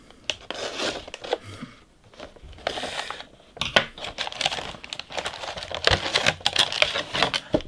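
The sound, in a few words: Skeletor figure's plastic blister pack being torn open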